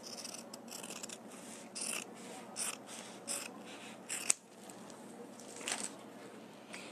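Scissors cut material for a handmade wallet in a series of short, crisp snips spread over several seconds, close and fairly quiet against a light background hiss.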